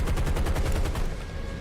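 P-40E Kittyhawk machine guns firing in War Thunder during an airbase strafing run: one continuous, rapid, close burst of heavy automatic fire over engine roar.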